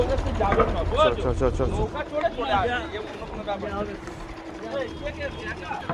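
A steady boat engine drones underneath, while people chat over it close by.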